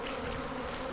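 Honeybees at a family apiary in spring produce a dense, steady buzzing swarm drone, close and continuous throughout with no gaps.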